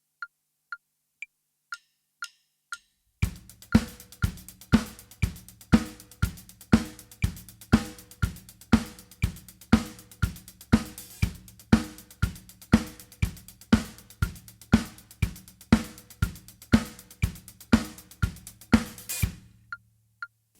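A drum kit plays a straight beat of sixteenth-note hi-hats with snare on 2 and 4 and bass drum on every beat, no accents, evenly and closely, after a few soft sticked count-in clicks.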